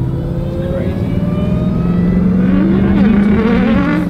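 Jeep Trackhawk SUV launching off the start line in a cold-weather drag race, its engine roar loud and steady, climbing in pitch as it accelerates through the gears.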